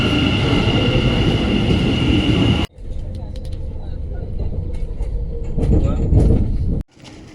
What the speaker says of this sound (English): So our train is here, and we'll board this and get back to the airport.